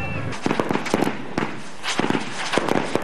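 Firecrackers burst repeatedly during festivities, a rapid irregular string of sharp pops and cracks at mid distance, with a busy crowd murmur underneath.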